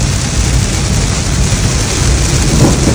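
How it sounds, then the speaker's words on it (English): A thunderstorm with heavy rain in the Pilbara, heard as a loud, dense, continuous roar of downpour with low rumbling throughout and no voices. "Caught in a thunderstorm."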